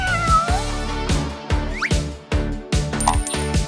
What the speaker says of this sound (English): Oh, what a pretty kitty.